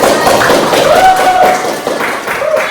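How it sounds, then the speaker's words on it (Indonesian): A class of pupils clapping hands together in a classroom, a loud, dense patter of claps running continuously with a few voices mixed in. "Iya, tepuk tangan."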